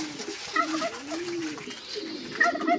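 A Palomo de caza hunting pigeon coos close by, a few soft, rolling calls in a short run with low background murmur.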